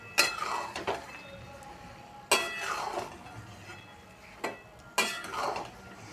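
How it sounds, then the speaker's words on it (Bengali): A metal spatula stirs raw mango pickle in a pan, giving sharp clinks and scrapes at uneven intervals, about five distinct knocks over a quiet background. "এই আমটা দিয়েও কিছুক্ষণ আমি খুন্তি নাড়িয়ে যাব এভাবে"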